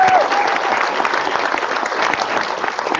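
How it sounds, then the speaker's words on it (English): An audience at a hackathon demo and judging day breaks into loud, dense applause that holds steady for the whole stretch. "How about a round of applause again for Beth and everyone who helped to make today possible?"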